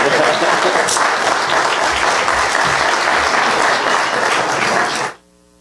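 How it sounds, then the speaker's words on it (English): A church audience at a Sunday service claps in sustained, full applause mixed with crowd murmur, holding steady for about five seconds before cutting off abruptly into quiet. "Ladies and gentlemen, please give a round of applause for Mr. Rooster."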